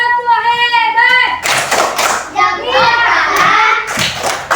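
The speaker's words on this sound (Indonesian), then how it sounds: "yuk kita kasih tepuk hebat untuk kelompok 2" Children in a classroom perform a rhythmic 'tepuk hebat' clapping routine, sharp hand claps landing in a pattern among chanted children's voices, close and loud.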